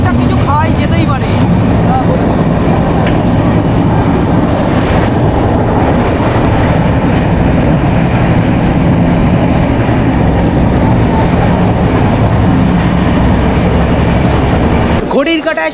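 The 12857 Tamralipta Express from Howrah toward Digha runs with a loud, steady rumble of wheels and carriage noise, a sharp clatter near the end and a voice talking over it.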